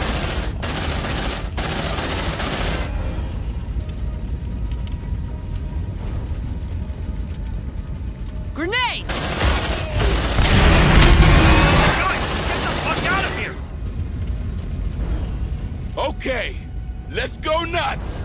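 A deployed sentry gun in Aliens: Dark Descent fires long sustained bursts, a loud continuous rattle that breaks off and resumes, with voiced callouts and other game sounds mixed in.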